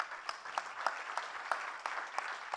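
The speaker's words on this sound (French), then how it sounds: "Vous pouvez l'applaudir, s'il vous plaît." A small conference audience at a sustainable-cities plenary claps to welcome a panelist, a brief, fairly faint patter of scattered hand claps with a few sharper individual claps standing out.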